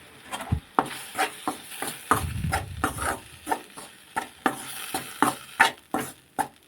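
A spoon repeatedly scrapes through a thick Dharwad peda mixture as it heats with milk in a pan. The strokes come in steady, close rhythmic bursts over a soft sizzle, with no talking.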